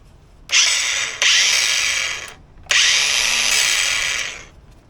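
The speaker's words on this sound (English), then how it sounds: "Grinder." A power grinder on a Ford Mondeo Mk3 ST220 chassis during a clean-up, whining loudly in two long bursts with a brief dip between them, close up and with no talk.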